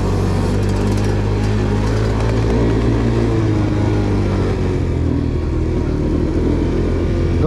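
A Romet Pony moped's small 3.5-horsepower engine runs close and loud with the throttle held slightly open, a buzzy continuous drone that rises and falls slightly in pitch throughout.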